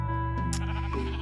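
Sheep bleating in the Minecraft survival game, a single short synthetic bleat standing out over a steady droning game background.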